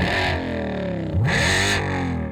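A Borla Active Performance Sound system on a Ford Mustang Mach-E plays synthesized exhaust tones through the car: a steady, buzzy engine-like drone that shifts and sweeps in pitch midway as the sound is switched.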